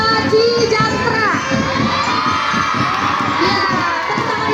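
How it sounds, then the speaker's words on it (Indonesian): A crowd of children shouts and cheers loudly at an Indonesian children's contest event, a dense, close, sustained roar of young voices without pause. "tepuk tangan yang meriah"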